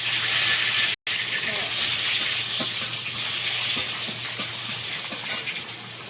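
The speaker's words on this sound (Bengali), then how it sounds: "গোটা জিরে, তেজপাতা, গোটা গরম মশলা সব দিয়ে তেলের মধ্যে একটু ভেজে" Whole cumin, bay leaf and whole garam masala frying in hot oil at the start of a crab curry, giving a continuous, close, bright sizzling hiss that stays steady apart from a momentary cut near the first second.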